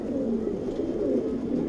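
A pigeon on a rooftop cooing in a low, steady, throaty warble, close and continuous for the whole stretch with no talk.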